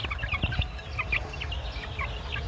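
Young chicks under a month old cluck and peep steadily while pecking at chick booster feed, a close, busy chorus of short calls over soft background noise.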